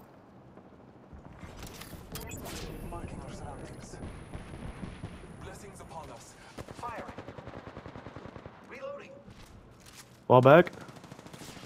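Bursts of enemy gunfire in Apex Legends, rapid automatic fire in scattered volleys at mid distance, with a sharp loud shot near the end and voices talking in between.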